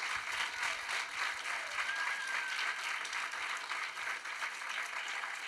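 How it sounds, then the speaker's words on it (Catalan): At a student awards ceremony, a large audience gives steady, sustained applause for the 76 finalist projects, a continuous wash of clapping with no break. "Un aplaudiment per als 76 projectes."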